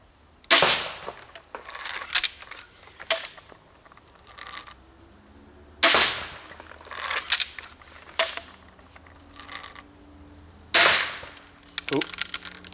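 Shots from a modified crossbow loosing bolts at a target: three sharp, loud snapping releases spaced about five seconds apart, each followed by a few fainter clicks and knocks, with no talking.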